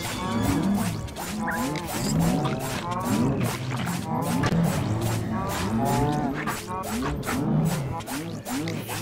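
Cows mooing in the Minecraft Dungeons video game, several long, low, wavering moos overlapping one another continuously, loud and close, with players talking underneath.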